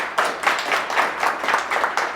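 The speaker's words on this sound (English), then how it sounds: "So please give her a round of applause." Audience applause after an introduction at a talk on the Justus Ramsey House, a steady broadband wash of many hands clapping, fairly loud and continuous throughout with rhythmic swells and no talk.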